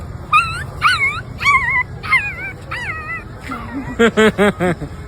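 A child imitates a small puppy's whimper, with several high, wavering whines followed by a quick run of short yips, close and clear with no other voices.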